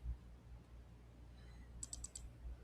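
Quick mouse clicks on a computer, a short burst of four crisp, faint clicks close together over a low room hum, with no talking.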